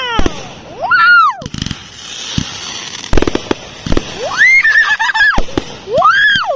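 Fourth of July fireworks finale with shells bursting in loud sharp cracks and booms, whistling rising and falling tails, and crackling pops over several seconds, close and intense.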